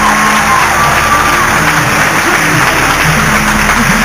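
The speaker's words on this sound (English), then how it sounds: "how about a round of applause for our MC?" Loud applause and cheering for the MC at a finale show, dense clapping with shouts and whoops from a close, lively crowd, unbroken throughout.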